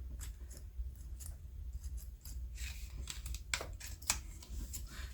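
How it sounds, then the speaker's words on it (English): Dull scissors trim small pieces of a craft project with repeated short snips and crunches at an uneven pace, close up over a low steady hum. "That's some dull scissors there."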